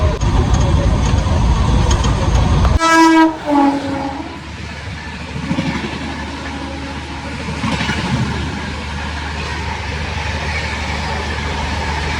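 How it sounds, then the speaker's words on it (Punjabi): A loud rushing rumble of a passing train at a station on the Delhi to Amritsar line, then a brief blast of a train horn, after which a lower mechanical hum and distant clatter continue. "ਆਹ ਟ੍ਰੇਨ ਲੰਘਣੀ ਤੇ ਫੇਰ ਆਪਣੀ ਤੁਰਨੀ ਆ"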